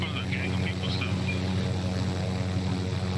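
A helicopter in the Warzone shooter holds a steady, loud rotor drone and engine hum close by, with faint higher whines drifting over it throughout.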